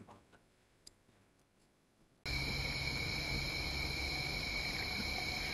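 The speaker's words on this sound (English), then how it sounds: "I can hear the crickets and so on" After a quiet stretch with a few faint ticks, a dense, steady chorus of high-pitched cricket chirps suddenly fills the air and continues without pause.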